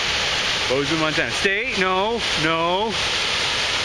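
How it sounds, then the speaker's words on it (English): Grotto Falls on Hyalite Creek gives a constant rushing roar of falling water, while a person talks over it in the foreground. "Grotto Falls. Hyalite Creek."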